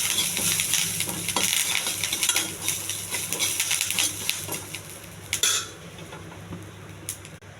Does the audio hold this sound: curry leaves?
yes